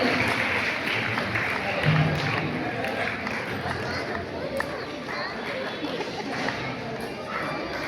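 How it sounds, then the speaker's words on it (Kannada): An audience at an award ceremony for competition winners in Bangalore gives sustained applause, a dense patter of clapping mixed with crowd chatter and babble throughout. "ಚಪ್ಪಾಳೆಯೊಂದಿಗೆ ಪ್ರೋತ್ಸಾಹವಿದೆ."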